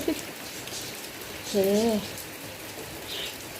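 Steady rain falls at a home in Prachuap in Thailand while a meal is being cooked, a soft continuous hiss under brief speech and a short sung or voiced tone.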